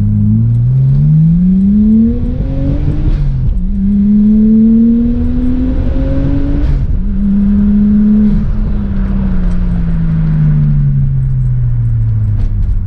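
A Nissan Skyline R33 GTS-T engine revs repeatedly, pitch climbing in three rising sweeps before settling into a steady idle rumble, close and loud with no talking.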